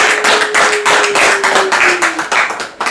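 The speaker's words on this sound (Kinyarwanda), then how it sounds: "Reka tumwongere amashyi banyamuryango." An audience at a members' gathering claps in a steady rhythmic beat, loud and close, with a thin sustained tone running underneath and no voices.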